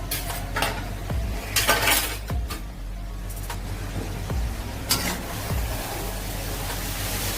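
Vegetable hakka noodles with spring onions being stirred in a pan over a medium flame, with a steady sizzle and repeated scraping, clinking strokes of a utensil against the metal, close and fairly loud.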